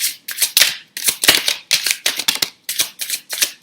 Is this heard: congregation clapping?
no